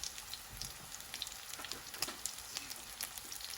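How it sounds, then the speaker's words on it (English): Samoan sausages fry in about three tablespoons of vegetable oil, giving a steady crackling sizzle with dense scattered pops close up, no voices. "So I need to fry this."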